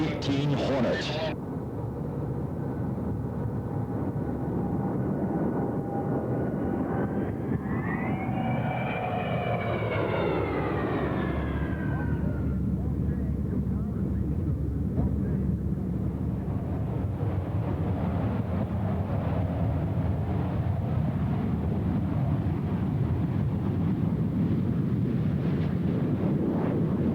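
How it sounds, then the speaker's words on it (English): An F/A-18 Hornet fighter jet from VFA-125 at Lemoore Naval Air Station roars past in a tactical demonstration, a sustained loud engine rush with a sweeping whine, while a commentator talks over the noise. "We're about to see a tactical demonstration by one of the most devastating aerial weapons that the United States fighting forces employ, and that is the FA-18 Hornet"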